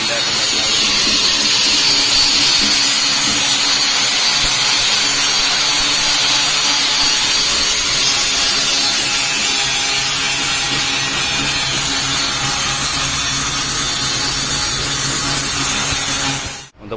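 An angle grinder grinds continuously and loudly, cleaning a weld on the body of a leaking hot water calorifier tank, a harsh close abrasive roar that cuts off abruptly at the end.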